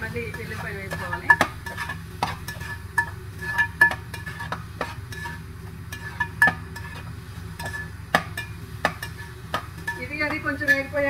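Onions and ginger fry in a pan for a Filipino-style chicken adobo, a low steady sizzle under repeated clinks and scrapes of a spoon stirring against the pan.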